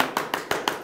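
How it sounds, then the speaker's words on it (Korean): Four distinct sharp handclaps spaced evenly apart, fairly close and moderately loud, each a short crisp slap with a brief decay in between. "박수!"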